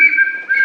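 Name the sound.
reconstructed ancient Peruvian instrument whistling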